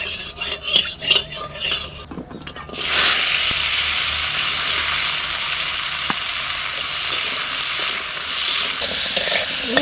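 Potatoes sauté in a wok, a steady broadband sizzle with stirring and utensil scrapes against the pan; a brief lid or pan clatter early on, then continuous loud frying without talk.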